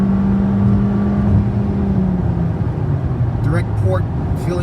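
A 2018 Toyota Camry SE with its direct-injected 203-horsepower four-cylinder accelerating, heard from inside as a steady road-and-engine drone that rises in pitch, with faint brief voices near the end.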